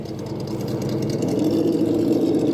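A Traxxas TRX4 RC crawler's electric motor whirs at steady throttle on a trail, a continuous mid-pitched hum that rises slightly and then holds even, close and alone.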